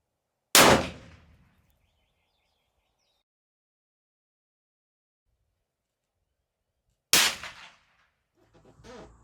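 Two suppressed rifle shots fired several seconds apart, each a sharp loud crack with a short decaying tail, followed by faint rustling near the end.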